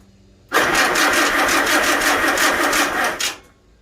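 A Farmall Super A tractor engine picks up sharply as the throttle opens, holding a loud, close, steady rev for about three seconds before dropping back.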